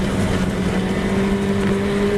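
Historic Formula Ford race cars lapping at Silverstone, a steady loud engine drone with a sustained tone held throughout, no pauses or voices.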